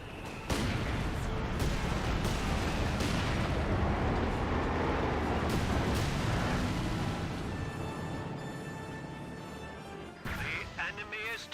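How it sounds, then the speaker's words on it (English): An incendiary mortar barrage in Company of Heroes 2 lands as a continuous roll of heavy booming explosions and crashes. It stays loud for several seconds, then eases off, with a voice talking over part of it. "We have incendiary mortar barrage from the Brits."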